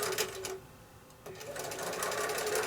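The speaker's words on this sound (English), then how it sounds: "send this through your machine, and then as we get to the end, we're going to have the next one ready to go and send it in through right behind it" A sewing machine stitches pieced quilt block sections for a nine patch block, running in a close, steady whir that pauses briefly and then starts up again, with no talking.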